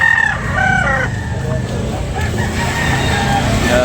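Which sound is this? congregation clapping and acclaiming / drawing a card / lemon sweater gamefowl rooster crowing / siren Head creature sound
lemon sweater gamefowl rooster crowing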